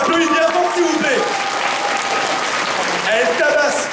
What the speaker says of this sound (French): Donc on l'applaudit bien fort, s'il vous plaît.